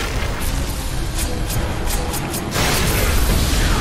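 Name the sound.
angelic beasts firing projectiles in video game Darksiders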